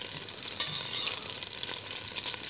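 Butter sizzles and browns in a hot pan, a steady close frying hiss with faint crackle throughout, no voices.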